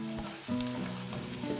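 Onions fry in a pan toward golden brown for matar pulao, giving a steady close sizzle with bubbling crackle and a brief stir, and no talking.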